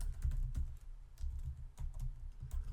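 Quiet, close computer keyboard typing while entering HTML code, a quick irregular patter of soft key clicks with small pauses between runs.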